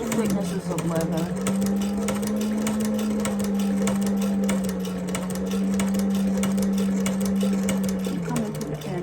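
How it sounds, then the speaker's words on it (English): A Techsew 2900 leather and cobbler sewing machine runs steadily through thick leather, its loud motor hum carrying a rapid, continuous stitching clatter with a brief slowdown near the end. "with the power of this machine, I can sew pretty much through multiple thicknesses of leather"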